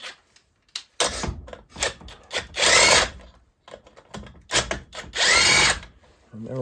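A power tool spins out the muffler bolts on a Poulan 3800 chainsaw in short whirring bursts, separated by pauses and small mechanical clicks, close and fairly loud.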